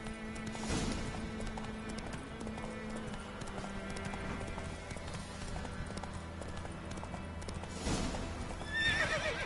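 A horse in The Witcher 3: Wild Hunt, with rhythmic hoofbeats clip-clopping under game music, and a loud neigh near the start and another toward the end.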